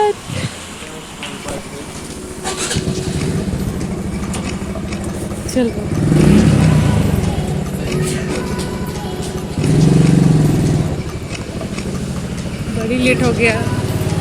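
A motorcycle engine runs nearby with a low, steady rumble that swells twice, as a cousin arrives by bike to give a ride near a market. People talk over it throughout.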